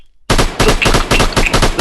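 AK-47 firing in the video game Online Strike: after a brief silence, a loud, rapid automatic burst of gunfire rattles on almost without pause for over a second.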